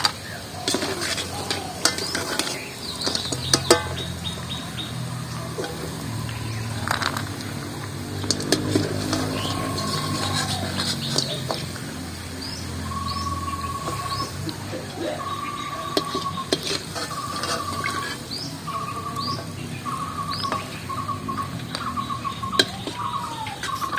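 Kotkoti, fried sweets made from flour dough, are lifted out of hot frying oil at home, giving a steady close sizzle with scattered light clicks and scrapes of a utensil against the pan.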